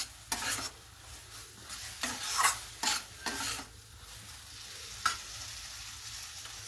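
Spice masala for cheese paneer bhurji frying in a pan, soft sizzling under intermittent scraping stirs, a handful of short clattering strokes, quiet and close.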